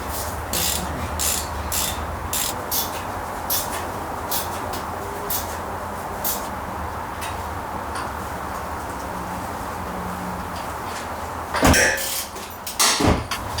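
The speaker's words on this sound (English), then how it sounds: "working on tightening the bolts down now. 17 millimeter ratcheting wrench is going to be your best friend working on these JBA headers" A 17 mm ratcheting wrench tightens JBA exhaust header bolts on a first-generation Toyota Sequoia or Tundra 2UZ-FE V8. Short bursts of rapid clicking repeat up close, followed by a few louder metallic clanks at the end.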